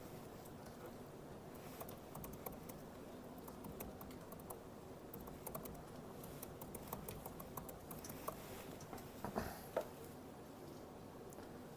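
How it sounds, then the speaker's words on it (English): Soft, fast key clicks on a computer keyboard as a message is typed, a faint, steady patter of taps close by over low room hiss, with no voices. "So I'll just type a message here."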